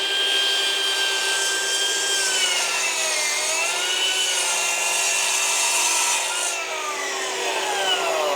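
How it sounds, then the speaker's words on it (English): Saw cutting through six-inch-tall wooden baseboard trim: a loud, continuous high-pitched whine as the blade bites through the wood, its pitch wavering slightly over the whole cut, with no one speaking. "Now that I'm lining my saw up, I want my blade to be right on that line, if not even a hair over."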